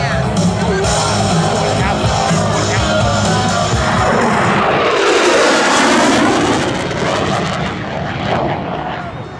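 An F-16 Fighting Falcon makes a loud, near-sonic high-speed pass at an air show, a sustained jet roar that swells and shifts pitch as it sweeps past, with crowd noise beneath.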